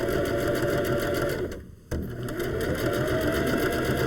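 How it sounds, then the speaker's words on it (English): A sewing machine runs steadily, stitching a seam along the edge of sweater fabric, with a continuous close mechanical whir that dips briefly midway before resuming. "So I'm just gonna stitch right along that edge,"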